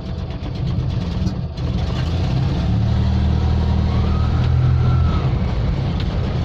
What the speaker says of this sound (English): I wonder if it's snowy enough for burnouts.